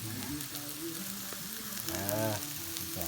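Food stirred and cooked in a pan for a Lao dish, a steady soft sizzle with faint scraping of the utensil throughout, brief clearer frying bursts near the end.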